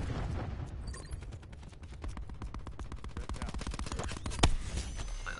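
Rapid automatic gunfire in Call of Duty Black Ops 4, dense bursts of shots firing in quick succession for several seconds, with a louder boom near the end.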